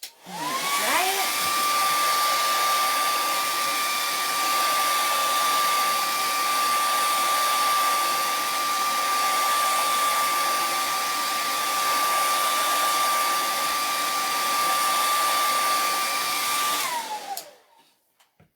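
Hair dryer blowing to dry a chalk transfer on a DIY board, a loud steady roar with a constant whine, switched on and running about sixteen seconds before winding down and cutting off.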